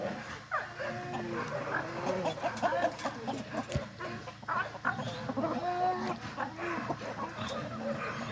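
Hens on a farm kept for fresh eggs and meat birds cluck and chatter in a busy overlapping flock, with a dog's barks and faint background voices mixed in.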